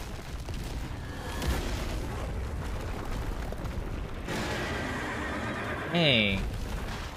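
A horse whinnies near the end of a stretch of dense, noisy action in the video game Stellar Blade, a short, loud neigh with a falling pitch rising above the steady game soundscape.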